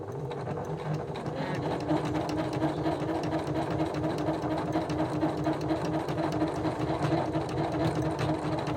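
A sewing machine stitches a seam through thick canvas for a painted banner, a loud, close, rapid rhythmic chatter of the needle running steadily throughout.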